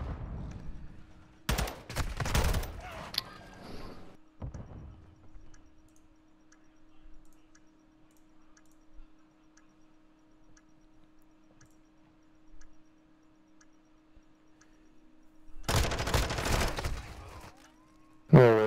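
Gunfire in Call of Duty MW2, two short loud bursts near the start and another near the end, with faint clicks and a low steady hum between them.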